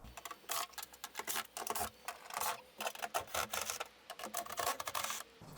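Phillips head screws are worked out of a metal cover on a Mazda Miata to reach the fuel pump, with close, quiet rasping and scraping turns in short repeated bursts and no talking.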